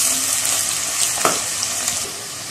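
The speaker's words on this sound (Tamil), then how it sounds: "நல்லா இப்படி வெங்காயத்தை நல்லா வதக்கி வச்சுக்கோம்" Onions sauté in a pan with a bright, steady frying sizzle, close and fairly loud, broken by a few scraping stirs of a spoon through the pan, heard alone.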